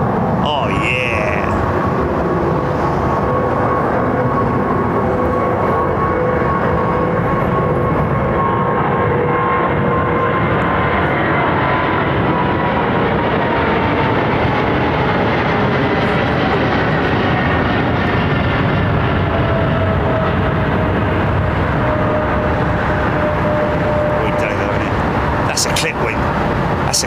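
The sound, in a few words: aircraft passing at London Heathrow Airport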